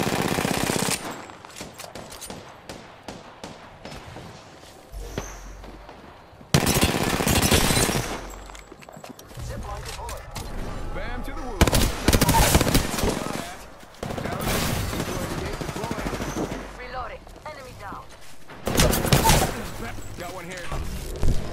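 Bursts of automatic gunfire and impacts in a ranked online shooter match, loud and dense in several blasts, with players talking over the action.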